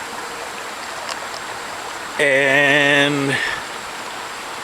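A creek runs with a steady broadband rush of water throughout, while someone briefly speaks over it midway.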